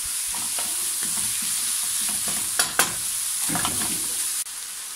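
Chicken and vegetables sizzling in a frying pan, a steady hiss of frying broken by clattering stirring strokes, close and loud with no talk.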